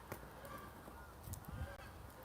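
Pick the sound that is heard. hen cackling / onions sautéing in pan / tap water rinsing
hen cackling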